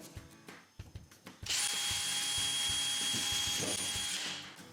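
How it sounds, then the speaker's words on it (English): A power drill bores pilot holes through an old metal bed slide rail into a new one on a Coleman Fleetwood pop-up camper, a loud, steady whine that runs for a few seconds after some faint handling clicks. "So drill right through the old one"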